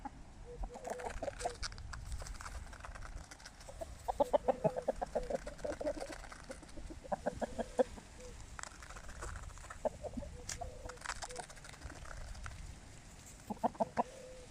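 Roosters of mixed breeds, including Araucana, Basque and Legbar, keep up repeated clucking and short crow-like calls in an outdoor coop, with several louder bursts spread through the clip over constant background noise.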